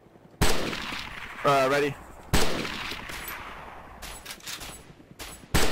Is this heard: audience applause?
no